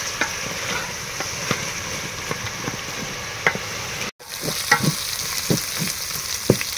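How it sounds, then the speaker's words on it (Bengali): Tomato paste frying and being stirred in a pan for egg biryani produces a close, continuous sizzle with repeated spoon scrapes and taps, broken by one very brief silence. "এই টমেটো পেস্টটা দেওয়ার পরে একটুখানি কষিয়ে নেব, টমেটোর কাঁচা গন্ধটা যাতে চলে যায়।"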